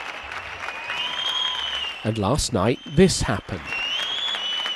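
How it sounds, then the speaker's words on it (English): Applause and clapping ring out across Spain as people thank the country's doctors, a broad steady wash of distant clapping with whistles, briefly broken by someone speaking over it before the clapping carries on. "Applause all across Spain to thank the country's doctors."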